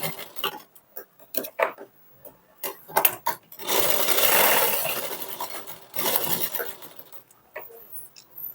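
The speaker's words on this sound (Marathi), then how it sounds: "आपल्याला अशी तिरकस शिलाई मारून घ्यायची आहे" Short intermittent bursts of a sewing machine sewing a diagonal seam on a bias strip for piping, with a couple of longer runs of stitching, close and fairly quiet with clicks and handling noise in between.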